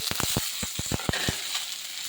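Tomatoes hit hot oil in a frying pan, already holding onion, garlic and green chilli, giving a soft, close sizzle with a run of brief crackling pops and no voices.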